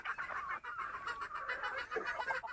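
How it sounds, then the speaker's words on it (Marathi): Several free-range desi chickens cluck continuously and close by while eating tomatoes, a busy overlapping chatter of clucks. "कसं खाण्यामध्ये व्यस्त आहेत कोंबड्या बघा"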